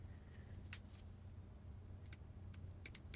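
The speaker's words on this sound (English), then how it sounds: "Mini electronic duckbill plier clicking sound." Mini electronic duckbill pliers clicking, a few sparse light clicks, then a quicker cluster of sharp snaps near the end, close and quiet against a soft background hiss.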